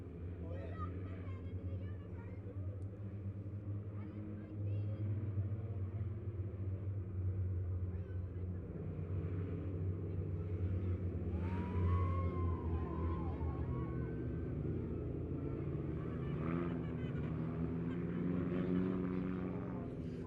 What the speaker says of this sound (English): I want you to make enough noise for them to hear you over the rumble of their engines